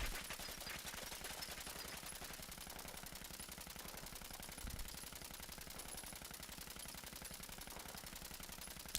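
Rapid automatic gunfire from a non-Elder's Mark weapon in Fallout 76, a dense, evenly spaced stream of shots running continuously at a constant rate, fairly quiet overall and with no talking.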